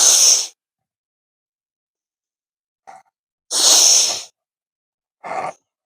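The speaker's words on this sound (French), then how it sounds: "qui consiste à boucher une narine et à expulser l'air par l'autre narine, mais sans forcer, tout en douceur" Blowing air out through one nostril after a saline nasal rinse, three sharp hissing nasal bursts with short gaps between them and faint breaths in between, close and alone.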